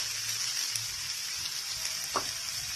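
Onion hitting melted butter with cumin seeds in a hot pan, a loud steady sizzle and crackle up close with a faint clink partway through and no talking.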